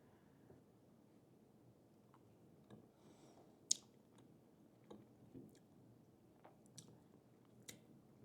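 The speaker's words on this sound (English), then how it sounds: "we're going to try one of the cookies that we made. I'm going to take a little one here." Quiet, close chewing of a soft homemade Chanukkah cookie with a lightly crunchy top: soft moist mastication broken by scattered small clicks and crisp bites, with no talking.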